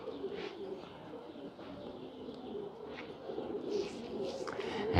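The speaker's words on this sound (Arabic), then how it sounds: "يعني قاعد بطلع الحمام، بطلع عليها وهي طايره زي هيك بفقد ريش" Pigeons coo on a rooftop loft, soft repeated low cooing from several birds close by, mixed with rustling, faint chirps and outdoor background noise.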